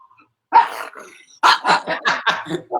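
A dog barks and yips at sirens in a quick excited burst of several barks up close, the first one separated by a short pause.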